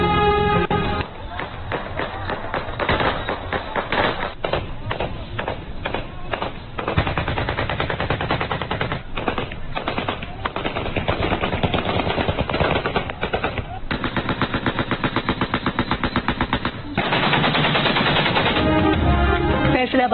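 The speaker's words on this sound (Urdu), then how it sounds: "مہندی کی تقریب میں ہوائی فائرنگ کا مقابلہ۔" Aerial gunfire from automatic weapons at a mehndi ceremony: loud, dense bursts of rapid shots crackle continuously, with near-constant volleys and brief gaps, sounding close and sustained throughout.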